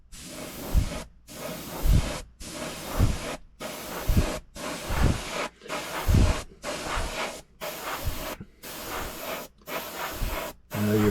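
Vallejo acrylic paint sprays onto a plastic scale model in bursts of airbrush hiss, about eleven short passes separated by brief silences, each with a soft puff at its start.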